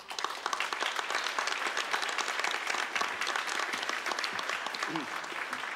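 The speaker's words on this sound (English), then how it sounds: "And I'd like to turn it over to Marty Rubin, who I want to applaud for pulling this off." Audience applause fills a town hall meeting, steady dense clapping throughout at moderate distance, with faint voices mixed in beneath.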